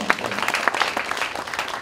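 A meeting audience at a founding general assembly claps to approve a budget, a short burst of brisk, fairly loud applause lasting under two seconds with no speech over it.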